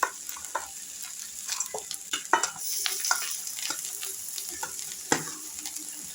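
Partly boiled rice for a fish-head biryani goes into a pan of hot oil and is fried and stirred, with a soft sizzle under scattered scrapes and clinks of the spoon.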